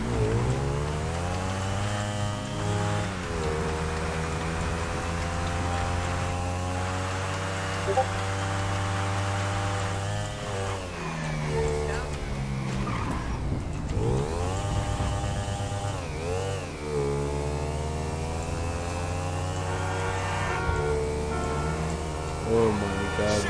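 Retro and Vortex minibikes riding and revving, small engines droning continuously with rising and falling pitch as throttles open and ease off, fairly close, with people's voices occasionally underneath.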